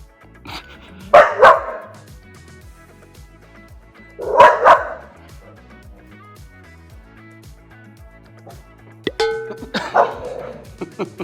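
A dog barking at an RC tarantula toy: three separate bursts of sharp, close barks and yips spaced by quiet gaps, with the toy's electronic tones and mechanical sounds in between.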